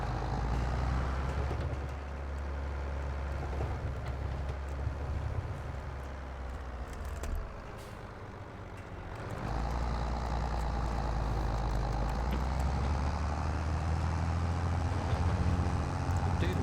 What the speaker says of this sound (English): I do like this tractor.